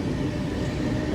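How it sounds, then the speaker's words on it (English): A low, continuous rumble of a train arriving at a station in the Berlin area, steady and fairly close, with no voices. "There's our train."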